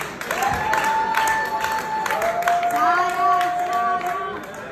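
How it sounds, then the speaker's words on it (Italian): Applause from the audience at a charity gala for Venice firefighters, a crowd clapping and cheering under a sustained, wavering tonal sound like music or a voice, with people talking over it. "un applauso alle organizzatrici"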